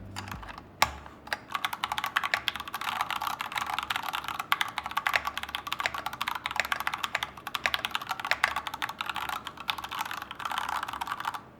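Typing on a Rexus Daxa mechanical keyboard with a swappable case bolted in place, a steady run of fairly quiet, dense key clacks with a duller, thocky tone, heard alone without talk.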